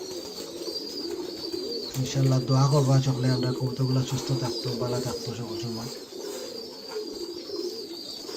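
Pigeons coo at a pigeon farm with newly hatched squabs, soft repeated throaty calls close by, running under someone speaking for much of the clip.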